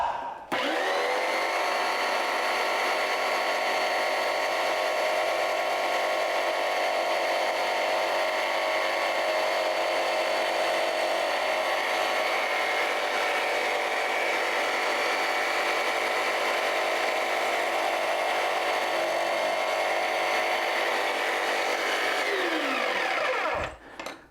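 A high-precision crosscut sled on a table saw slices through cast urethane resin, a steady loud whine running continuously for over twenty seconds with a spin-down at the end.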